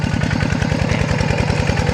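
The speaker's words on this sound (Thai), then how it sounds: "เพิ่งเอารถไถหน่อยธรรมดาเนาะค่ะ" A small single-cylinder walk-behind tractor engine chugs close up with a fast, even thumping rhythm.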